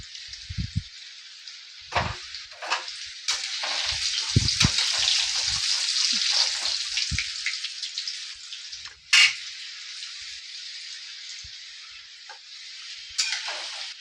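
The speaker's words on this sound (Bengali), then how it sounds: "এই আলুগুলো আমি একটু ফ্রাই করে নিচ্ছি। একটু হলুদ দিয়ে দিই।" Potato pieces frying with turmeric in a pan, a loud continuous sizzle running throughout, broken by repeated scrapes and clinks of stirring, with a sharper knock partway through.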